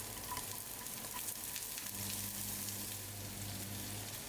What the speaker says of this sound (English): Now we can add the sliced onions